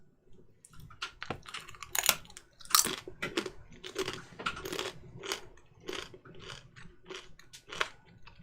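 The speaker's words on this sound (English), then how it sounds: "Not gonna be crunching in your ears too long." Someone crunches mouthfuls of Dorito-style tortilla chips close to the microphone, making irregular crisp bursts of chewing that repeat over several seconds with no speech.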